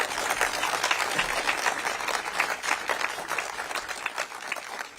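An audience applauds Nigel Farage, a dense, sustained wash of clapping from a large crowd that carries on steadily throughout.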